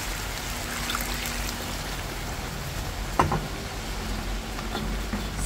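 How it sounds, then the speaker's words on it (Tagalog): Heavy rain pouring outside a home kitchen, a quiet, even hiss of falling water with a faint trickle and one brief clatter partway through. "Ayan, lakas ng ulan."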